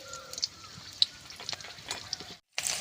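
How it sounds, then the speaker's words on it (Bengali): Slit green chillies, whole cumin and bay leaves crackle and sizzle in hot oil as a tempering, with fizzing bursts and pops that stop briefly, then surge back louder. "দিয়ে দেবো কাঁচা লঙ্কা চিরা, গোটা জিরে, তেজপাতা ফোড়ন"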